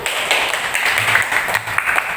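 A brief burst of applause from a primary school classroom as pupils clap for a group, dense and close for about two seconds.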